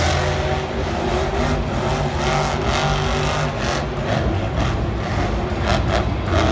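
A roaring monster truck engine at a Monster Jam arena event in Glendale drives over crushed cars, loud and continuous with rising revs and sharp crunching bursts over a dense crowd-filled background.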